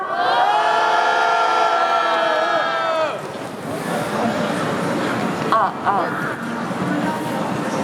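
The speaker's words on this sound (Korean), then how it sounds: "우리 초랑 피켓을 높이 들어서 환호로 모시겠습니다." A street rally crowd cheers and whoops, with loud overlapping voices and shouts at first, then a looser murmur of voices and scattered calls.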